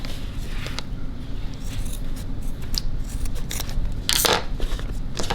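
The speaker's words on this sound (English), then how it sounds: "You're gonna go ahead and take the scissors and cut it" Scissors snipping through the fabric of a sewn bag organizer, close up, a few quick sharp cuts over steady low background noise.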